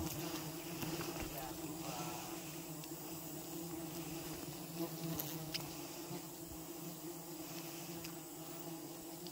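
Dense, steady buzzing of many bees close by at a large nest, a continuous droning hum that never lets up.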